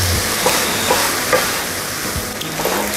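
Kimchi fried rice with spam sizzles loudly in a hot pan while two ladles stir and scrape through it, a steady close frying hiss with soft rhythmic scraping underneath.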